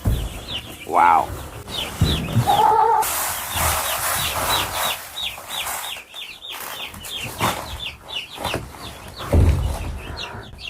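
Young chicks eating feed scattered on cardboard keep up rapid, high peeping chirps close by, with a few clucks and soft rustling mixed in.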